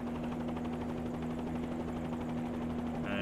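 A Bell 47G helicopter in a flight simulator game drones steadily with engine and rotor noise, a constant tonal hum with a fluttering rotor beat, alone and unchanging throughout.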